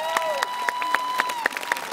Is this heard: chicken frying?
no